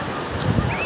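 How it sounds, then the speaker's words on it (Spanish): Seawater washes back down a beach as someone wades through the shallows, a short close rush of surf blended with wind buffeting the microphone. "El retroceso del agua que vuelve, que se presenta en la playa, el agua y vuelve"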